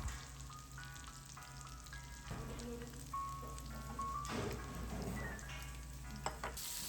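Pork intestines sizzling on a grill at a Busan restaurant, a continuous soft crackling hiss with occasional louder pops, faint and steady, against a quiet room hum with some faint background tones.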